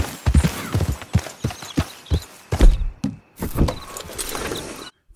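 A gold Palomino Tennessee Walker horse in Red Dead Redemption walks along, its hooves clip-clopping in an uneven stream of close, crisp footfalls with faint creaks of tack, then stopping abruptly near the end.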